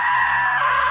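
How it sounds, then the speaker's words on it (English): A sustained, piercing scream from a character in the video game What Remains of Edith Finch, loud and close, a single drawn-out cry lasting about a second. "Now that was a great scream."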